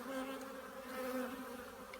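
A close, continuous honeybee drone with slight pitch wavering, heard while frames go back into a hive after an inspection, alone without speech.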